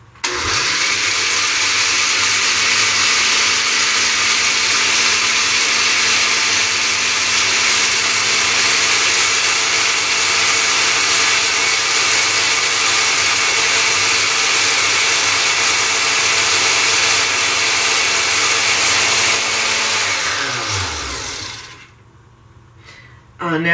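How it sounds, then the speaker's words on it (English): A loud kitchen blender whirs steadily while blending fresh indigo leaves for a dye bath, its motor holding a constant high whine for about twenty seconds before winding down and stopping. "I'm sorry for the noise, it's a loud blender."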